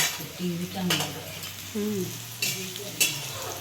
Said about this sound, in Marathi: आता छान परतून झाले टोमॅटो कांदा लसूण